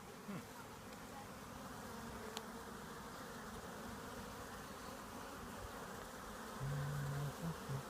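Honeybees buzz faintly around an open hive during an inspection, a soft continuous hum with one louder, closer buzz passing near the end.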